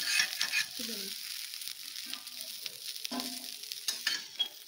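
Potatoes frying in oil in a pan for a cauliflower samosa filling, with a quiet sizzle and occasional soft stirring and scraping noises, close but faint.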